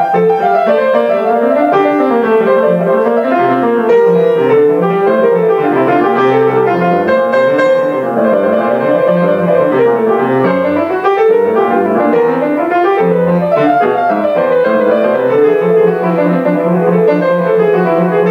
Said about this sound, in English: Here's an easy piece by Bach.